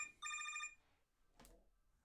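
A telephone rings once in a short electronic trill, fairly faint and heard alone, followed by a brief rustling noise.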